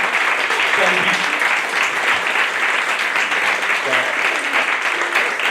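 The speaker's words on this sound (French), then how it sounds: "Alors ça, c'était un bel applaudissement." Audience applause at a live show in Albi, France: steady, dense clapping filling the room, loud and close, continuing without a break throughout.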